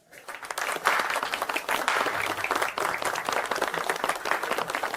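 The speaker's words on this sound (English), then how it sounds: "Can we get a big round of applause for our founders, Charlotte Brown and Harper Lee?" An audience breaks into applause for the founders at a corporate event, a full burst of clapping that swells quickly and stays lively for about five seconds.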